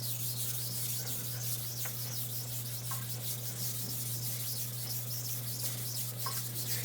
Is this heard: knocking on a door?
no